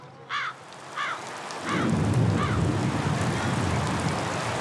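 Torrential rain falls over a Jakarta slum, starting as a dense steady roar after a few short chirps and building into heavy continuous downpour with a low rumbling undertone.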